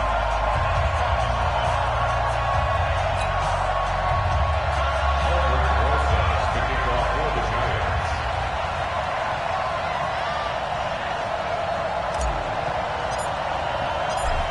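Madden NFL video game stadium crowd before a Dallas Cowboys versus New York Giants matchup: a loud, continuous roar of cheering fans that stays dense and steady throughout, with speech mixed in over it.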